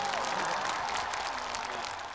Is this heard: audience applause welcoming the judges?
yes